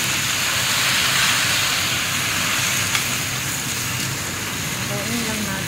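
Steady loud sizzling and hiss of a Chinese-style dish being stirred in a hot pan, seasoned only with pepper and salt, continuous throughout with faint scraping near the end.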